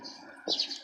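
Munia birds, mayang pipit, give short thin chirping calls close by, a soft twitter that rises in a brighter burst halfway through.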